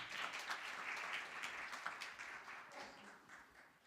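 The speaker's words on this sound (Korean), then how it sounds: "박수 부탁드립니다." An audience at a student presentation event in the National Assembly gives continuous applause, a dense, fairly distant patter of many hands that slowly fades over a few seconds.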